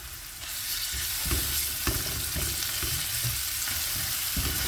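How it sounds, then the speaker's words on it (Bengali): Onions sizzle and fry in a pan for chicken vegetable rolls, a loud, continuous crackling hiss with occasional thumps of stirring, close up. "এখানে আমি যে চিকেন ভেজিটেবলস রোল বানাবো এই জন্য আমি পেঁয়াজটা একটু ভেজে নিছি"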